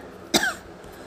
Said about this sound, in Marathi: तब्येत पण खराब आहे आणि खोकला जास्त येतोय